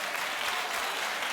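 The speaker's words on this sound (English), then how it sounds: "Stop clapping so I can defend myself." Dense, steady audience clapping fills the whole short stretch at a TV fashion recap show, loud and close with no pauses or voices over it.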